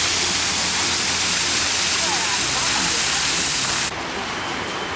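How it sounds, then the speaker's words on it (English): Steady rushing roar of a small waterfall at the foot of the Chestnut Hill Cascade at Peterhof Palace, a dense continuous wash of falling water heard close and loud, dropping slightly in level near the end. "As you can see, it's like a nice little waterfall at the end."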